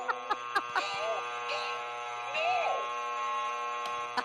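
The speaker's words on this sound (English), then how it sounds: "That is all long buzzer." A long quiz show buzzer in a live studio setting, a steady electronic drone held for several seconds under people talking, with a few sharp ticks at the start and end.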